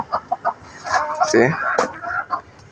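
Chickens clucking around a farmyard at dusk as they head into their coop, a run of close, mid-loud clucks and short squawks overlapping one another with no one speaking.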